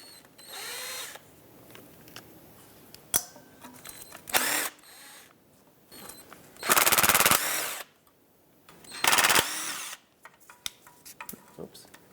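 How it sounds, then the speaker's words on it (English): A power tool whirs in several short, loud bursts while bolts come off the oil pan of a 1997-2001 Lexus ES300, with quieter clinks and handling sounds in between. "go around and remove all the bolts for this oil pan"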